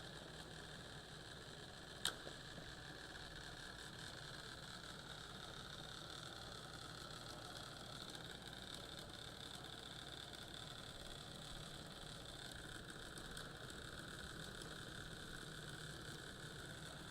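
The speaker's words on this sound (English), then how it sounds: "S&W Power Sports Junior Dragsters coming at you" Junior dragster engines idle at a drag strip, a steady mid-pitched engine drone with a faint vibration that holds throughout, and one brief sharp click near the start.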